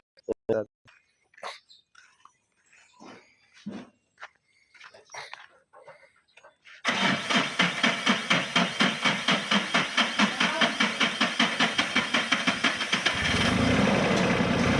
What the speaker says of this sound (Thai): เวลา มันจะสตาร์ทติดยากหน่อยเพราะว่า ปั๊ม มันไม่ค่อยดีนะครับ